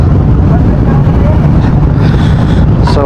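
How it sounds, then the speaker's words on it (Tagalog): Motorcycles rumble at the start of an endurance race, a loud low engine drone mixed with heavy wind buffeting on the microphone, with a brief higher whine near the end. "So engine start na."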